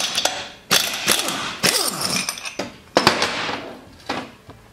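Metal tools work against a Tecumseh generator flywheel, a series of sharp clanks and ratcheting strikes with ringing metallic decay, loud and close, spaced irregularly across the clip.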